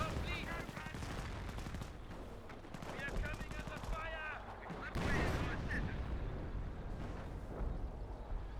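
Company of Heroes artillery barrage amid battle: rumbling blasts and machine-gun fire layered under game voice lines and commentary talk, with a heavier impact surge partway through.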